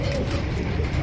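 Pigeons cooing at a pigeon sale where pairs and young birds are offered, a steady low murmur of soft coos filling the space without pause.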